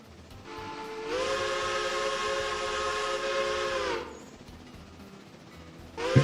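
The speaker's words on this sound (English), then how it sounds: "Train sound that you sent me as well, Joe." A recorded steam train whistle sounds one long, loud sustained blast over a hissing background, then cuts off, with a brief noisy burst at the end.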